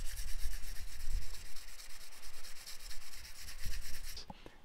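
Sponge rubbing a glossy computer mouse coating until matte: a continuous close, gritty scratching hiss with rhythmic back-and-forth strokes, moderately loud, stopping abruptly near the end.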